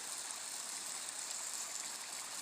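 Water gushing steadily from a hose fed by gravity from a ram pump setup, a continuous loud hissing rush with no pauses.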